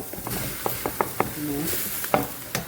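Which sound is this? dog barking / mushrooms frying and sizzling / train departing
mushrooms frying and sizzling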